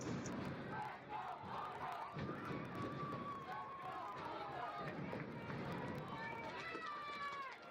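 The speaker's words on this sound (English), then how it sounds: "A lot of cheering coming from the middle section." Spectators at a LHSAA high school playoff soccer match between Baton Rouge High and Denham cheer and shout continuously from a distance, with a commentator talking over the crowd.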